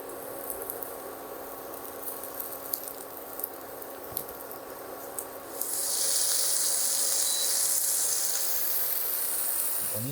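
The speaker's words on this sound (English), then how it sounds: "I'm gonna wait for it to sizzle. I'm gonna start by sauteing my potatoes." Oil sizzles and hisses steadily in a pan as potatoes are sautéed. Partway through, a brighter, louder crackling sizzle takes over and keeps going.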